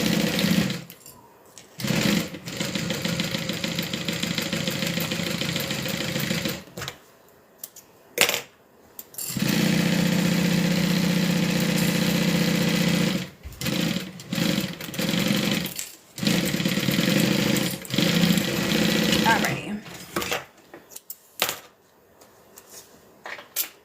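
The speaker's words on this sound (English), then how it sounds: "we're gonna sew it down with a 3/8 inch seam allowance all the way around" Sewing machine stitching a fabric seam, running in several bursts of steady mechanical whirring and rapid needle clatter separated by short pauses with faint handling sounds, close and loud.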